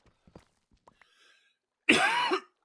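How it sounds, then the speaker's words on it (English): A single loud, harsh cough bursts close to the microphone and lasts about half a second, following a few faint scattered clicks and taps. "I apologize to anyone who had to hear me cough loudly"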